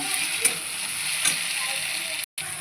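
Chopped tomatoes frying in a pan, a continuous moderate sizzle with a couple of faint utensil ticks and a short cut to silence near the end.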